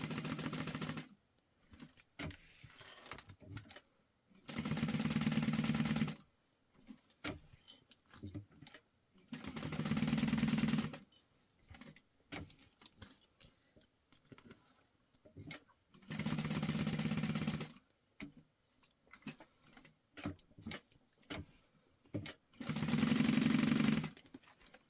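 Home sewing machine stitching a Victoria Wristlet, running in four steady bursts of rapid mechanical whirring with quiet pauses between them, where fabric rustles and small handling clicks are heard.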